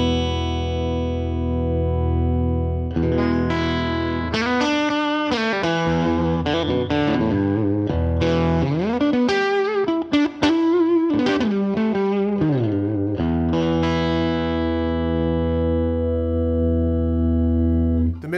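Eric Clapton Stratocaster electric guitar played through an amp with a crunchy, fattened tone: notes and chords ring out, bend and sustain for several seconds, then a final chord decays.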